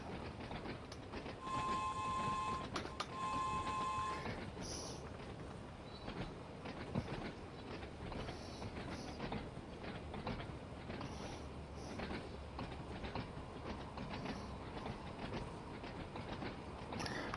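A train running in Train Sim World 4 rumbles steadily with rhythmic wheel clatter, and a two-part horn-like tone sounds early before the low running noise continues alone.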